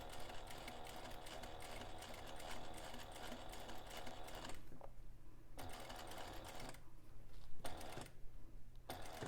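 Sewing machine stitching a zipper overlay on a bag interior, running in steady bursts with short pauses between runs, close and loud.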